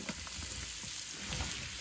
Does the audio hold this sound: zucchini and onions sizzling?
yes